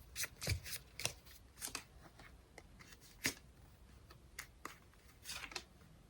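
Tarot cards being shuffled and drawn up close, a string of quick crisp riffles and slaps in irregular bursts, fairly quiet with no talking.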